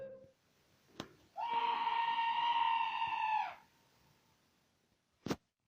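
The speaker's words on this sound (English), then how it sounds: "he begins hearing disturbing screams that seem to be coming from somewhere in the darkness" A single sustained, shrill scream rings out for about two seconds in the darkness of night, isolated against near-silence and bracketed by a couple of sharp knocks.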